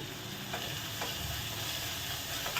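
Onions frying in a pan for a mutton and drumstick curry, a soft continuous sizzle with faint scraping of a spatula stirring every half second or so, fairly quiet and close, no talking.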